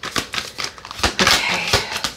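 Tarot cards being shuffled by hand, a quick run of crisp riffling snaps and papery slaps in short bursts, close and moderately loud, with no talking.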